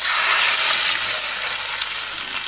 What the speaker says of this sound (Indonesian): ini nanti kita mau siram dengan minyak yang bener-bener panas banget.